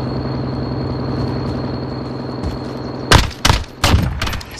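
Gunfire in the video game Warzone starts after a low, steady mechanical drone: several sharp, loud bursts of rapid shots crowd the final second and a half.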